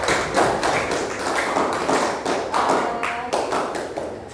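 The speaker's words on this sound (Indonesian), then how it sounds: "tepuk tangan dulu untuk kelompok terakhir ini" Classroom clapping for the final student group at a school project presentation in Indonesia, a dense, steady patter of many hands at close range that keeps going for about four seconds with no talking.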